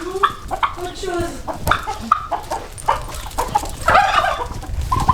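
Turkeys on a path in the village of Arouca, Portugal, make a jumble of close, loud clucks and gobbling calls, with people talking among them.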